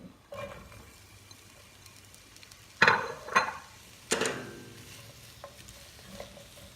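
Onions saute in olive oil in a hot skillet, a quiet steady sizzle broken by a few sharp stirring scrapes and clatters of a utensil against the pan.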